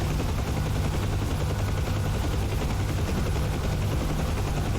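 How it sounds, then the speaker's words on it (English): Simulated UH-1H Huey helicopter flying in Digital Combat Simulator, a steady dense rotor and turbine drone with a low rhythmic thump, loud and constant throughout with no talk. "So we're flying a UH-1H Huey helicopter here on Digital Combat Simulator Steam Edition Open Beta."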